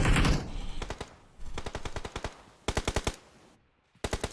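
Rapid bursts of automatic gunfire crackle in a battle royale video game during a clan tournament grand final, coming in several clustered volleys separated by short pauses, with one brief silent gap near the end.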